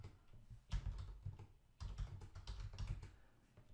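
Quick bursts of computer keyboard typing as an email address is entered into a Stripe test checkout, close and fairly soft, with two pauses between runs of keystrokes and no talking.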